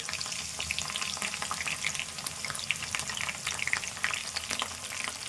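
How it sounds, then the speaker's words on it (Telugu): Onion and green chillies with a single dried red chilli fry in a pan for a brinjal and dried fish curry, giving a steady, dense sizzle with crackling pops throughout and no voices. "ఉల్లిపాయ వేసుకుందాము, పచ్చిమిర్చి"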